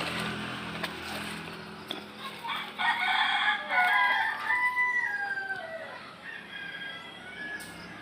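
A rooster crows outdoors, the drawn-out call rising and falling over several seconds, fairly close and clear, with other fowl and faint background noise around it.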